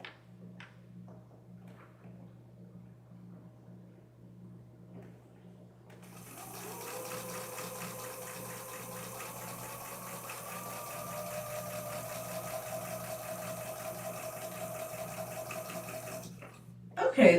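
A sewing machine stitches French seams, quiet at first, then running steadily for about ten seconds with a soft, fast mechanical whir and rattle, faint and close, stopping just before the end.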